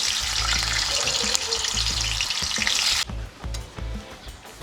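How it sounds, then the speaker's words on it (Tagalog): Tofu fries in a home kitchen pan, a loud, dense sizzle with a bright hiss and a low bubbling rumble, the hiss dropping off abruptly partway through while crackling continues, with no talk. "Atin naman iprito yung ating tokwa."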